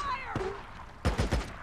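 Gunfire in the video game Days Gone: a sharp shot followed a moment later by a quick cluster of three or four bursts. A voice is heard briefly at the start.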